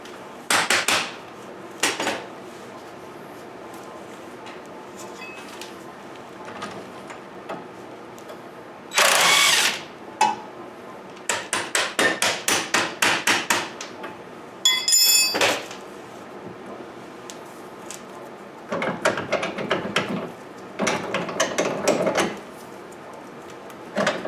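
Bursts from a power tool driving bolts and nuts back onto a 2012 Nissan Versa, several short loud runs of rattling impact separated by pauses, with clinks of hardware between them and no talk.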